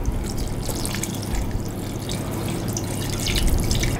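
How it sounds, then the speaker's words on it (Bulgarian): Cold water pours steadily into a clay pot of cabbage rolls packed with minced meat. A continuous close splashing wash gets slightly louder toward the end, with no voice heard. "Сега наливам си 400 мл студена вода."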